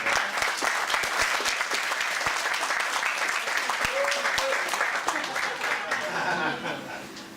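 A wedding reception crowd at the Commodore gives a big round of sustained applause, dense clapping throughout with scattered chuckles and voices mixed in.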